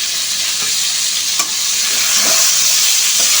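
Vegetables for a fish-head and Malabar spinach curry fry in a pan, a continuous close sizzle with a few soft stirring scrapes and knocks, no voices.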